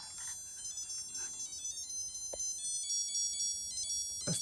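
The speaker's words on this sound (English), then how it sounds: "this is this watch here going off as we're speaking" A Casio CMD40 digital watch from the 1980s sounds its alarm, a thin high-pitched electronic beeping that repeats steadily, close and fairly quiet, with a few faint knocks and handling noises.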